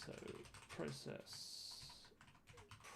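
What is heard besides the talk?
typing on computer keyboard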